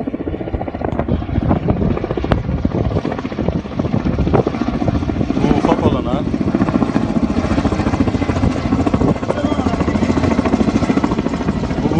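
Loud, close helicopter rotor chop pounding steadily throughout, with engine whine and wind buffeting and occasional voices faintly underneath, recorded from a helicopter over a wildfire in Mudanya, Turkey.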